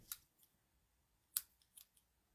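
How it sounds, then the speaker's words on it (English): Scissors snip through folded cardstock paper holding twine in a paper craft kit: two crisp, close cuts with a short pause between them, then quieter trailing rustles in an otherwise quiet room. "And then you just cut your folds"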